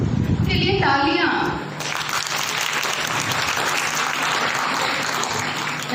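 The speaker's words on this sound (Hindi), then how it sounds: "के लिए तालियां" After a short stretch of a voice speaking, a school audience at a child-protection session on sexual abuse and cyber crime breaks into loud, steady applause that carries on to the end.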